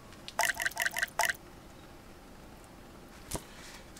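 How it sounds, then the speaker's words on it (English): A quick series of five water drips lands close by on waxed wood in rapid succession, followed by quiet and one more faint drop a couple of seconds later. "Let me show you one more time. I drop the water."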